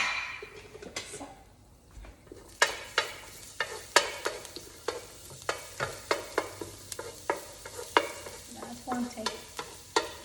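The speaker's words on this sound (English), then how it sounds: "So now we are going to put the garlic in here and saute that for 30 seconds." Garlic sautéing in oil in a pan for a chickpea omelet, a close, continuous sizzle broken by regular rhythmic scrapes and clacks of a utensil stirring, with a brief spoken phrase.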